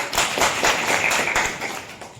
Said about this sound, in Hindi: वेरी गुड, ताली लगाओ इसके लिए